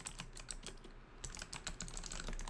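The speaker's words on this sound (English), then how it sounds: "I hear the typing." Rapid clatter of keys being typed on a computer keyboard, steady and fairly close, with brief pauses between bursts and no talking.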